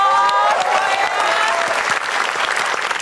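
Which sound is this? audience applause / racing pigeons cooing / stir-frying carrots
audience applause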